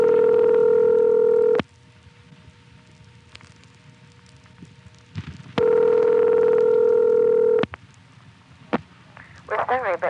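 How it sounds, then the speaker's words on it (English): On a step-by-step telephone exchange, a call dials 1 plus the vacant code 001. Steady tones start and stop, with clicks of dial pulses between them, and a voice-like warble comes in at the end. "we can dial 1 plus a vacant code and hear the recording from the particular long-distance tandem serving this area"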